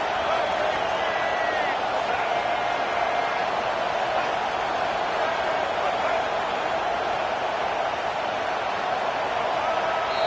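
A packed stadium crowd at a college football game roars continuously and loudly, a dense sustained wall of noise trying to force a fourth-down stop, with a commentator's voice mixed in.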